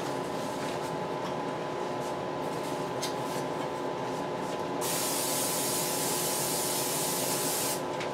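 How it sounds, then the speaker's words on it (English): A loud, continuous aerosol hiss of cooking spray coats a cake pan close up, growing stronger and brighter halfway through, then cutting off near the end. "spray the bottom of my pan."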